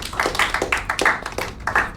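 Sparse applause from a small audience, with a handful of distinct claps standing out in an uneven rhythm for two seconds, fairly close and alone.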